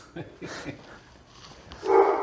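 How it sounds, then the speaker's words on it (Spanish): A dog named Coco barks in short yips and whimpers, a few quick calls early and a louder bark at the end, with people talking nearby. "está Coco. ahí ladrando"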